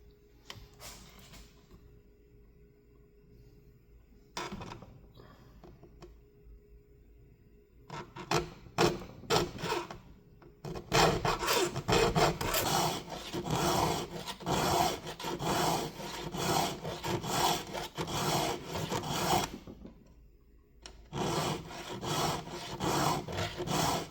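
A hand file sharpens a saw chain with rasping strokes: a few spaced strokes at first, then a long run of rapid, steady filing close to the listener.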